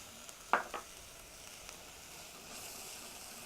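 Flour hitting hot bacon fat in a pot for chowder soup, giving a faint, soft sizzle with a brief sharp crackle early on, then a low steady hiss.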